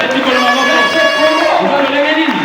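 A church congregation cheers and shouts praise together, a loud, dense crowd roar with raised voices running steadily throughout, dipping slightly near the end.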